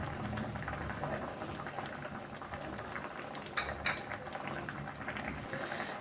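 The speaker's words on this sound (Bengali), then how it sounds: "দেখুন বন্ধুরা, মাছের ঝোলটা আমার ফুটছে।" A fish curry bubbling steadily in a pot on the stove, a soft continuous simmer with a couple of brief clinks partway through, close but fairly quiet.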